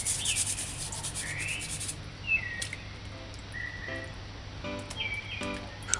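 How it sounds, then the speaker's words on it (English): A small brush scrubs a herb stem clean of mildew, a close, steady rasping rub throughout, with scattered faint chirps in the background. "Use the brush. Scrub the stem clean."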